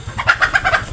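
A domestic desi hen on a farm clucks up close, giving about five quick, loud clucks in a short rhythmic series.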